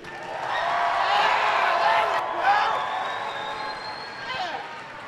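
An audience at a 2018 robotics district event gives a round of applause to welcome the student board of directors, a broad wash of clapping and cheering that swells, then gradually eases, with some voices over it.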